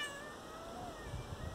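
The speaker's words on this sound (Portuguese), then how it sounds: "Um gato preto no cemitério." A black cat meows in a cemetery in a quiet, drawn-out cry over a steady background hiss of outdoor ambience.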